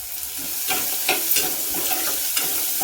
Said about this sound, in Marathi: कांदा बरा चांगला परतून घ्यायचा